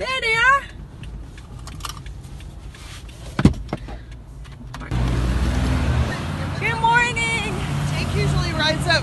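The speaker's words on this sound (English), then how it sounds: "lots of driving and lots of traffic so much traffic" Car driving through heavy traffic, a steady road rumble and engine hum that swells partway through, with a brief clunk, a voice speaking over the start and end.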